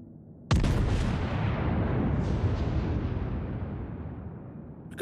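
Warship guns firing in the World of Warships naval game, a single loud, deep boom with a sharp onset that rolls into a long, slowly fading rumble lasting several seconds.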